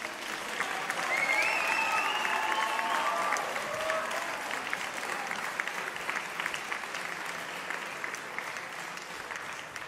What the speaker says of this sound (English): give Mrs. Mudd a really huge round of applause to thank her